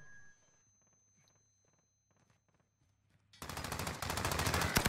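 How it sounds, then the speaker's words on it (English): Gunfire in a battle-royale style video game: quiet footsteps and faint shots give way to a sudden close burst of rapid automatic fire that keeps rattling loudly to the end. "they're shooting at me"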